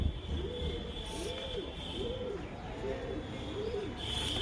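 Pigeons coo repeatedly in soft rhythmic rolling calls, about five in a row, moderately close over a steady background hum outdoors.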